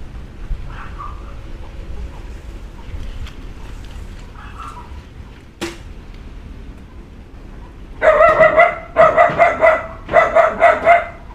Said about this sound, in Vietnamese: Chó sủa la quá.